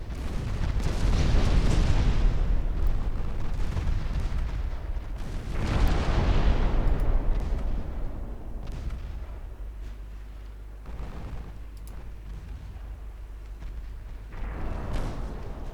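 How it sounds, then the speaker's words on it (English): Torpedo explosions and heavy naval booms in the warship game Ultimate Admiral Dreadnoughts, several loud rumbling blasts around the start and middle, then a lower continuous roar fading, with another burst near the end, no talk. "Oh, near misses with the torpedoes there"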